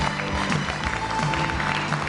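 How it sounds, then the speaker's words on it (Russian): Audience applause at a choir concert, a steady dense wash of clapping throughout at moderate loudness with no one speaking over it. "Аплодисменты."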